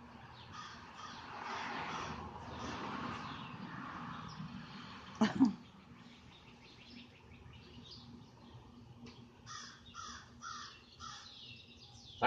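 A rescued crow gives a few harsh caws and softer calls, mostly faint and intermittent, with one sharper burst midway, over a quiet outdoor background with some distant chirps.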